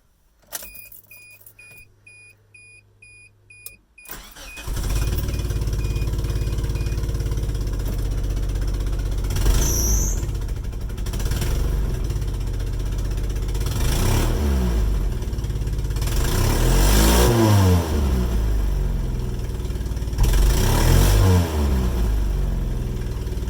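A Suzuki Sidekick with a swapped 16-valve engine cranks and starts after a few seconds of quiet clicking, then idles loudly and is revved several times in uneven, sluggish surges, close up with no talking.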